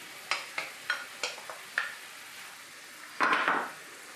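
Chopped onion cooks in a pan for risotto, heard as a run of quiet, evenly spaced utensil taps and scrapes followed by a longer, brighter sizzling scrape.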